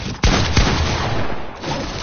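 Gunfire in the battle royale game Fortnite: two sharp nearby shots over a dense, noisy background of ongoing fire in a brief burst.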